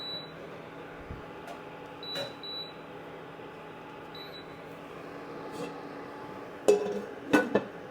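A lid is set over a pot of simmering German beef goulash, giving a couple of bright metallic clinks near the end after a quiet stretch of kitchen hum.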